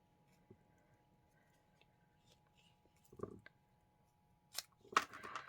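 A piece being cut and trimmed with scissors, a few quiet, sparse snips and clicks in a near-silent room, the sharpest cuts coming toward the end.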